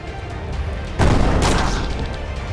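A cannon firing in the video game Chained Echoes, one heavy boom with a crashing burst over a rumbling game soundscape.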